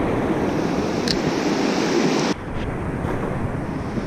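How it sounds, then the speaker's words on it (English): Steady, loud rush of a fast-running river in Maine, a broad continuous roar that drops slightly in level partway through, with no voices. "Even the small pools are just fast running water"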